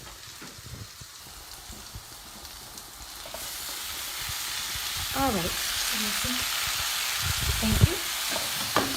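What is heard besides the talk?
datterini tomatoes sizzling in frying pan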